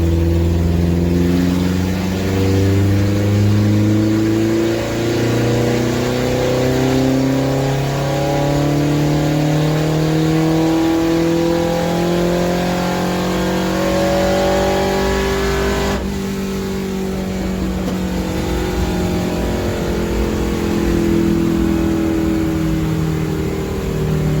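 A car with a homemade ram air intake accelerates hard in third gear on a road, its engine note rising steadily and loudly from inside the cabin, easing briefly midway before climbing again.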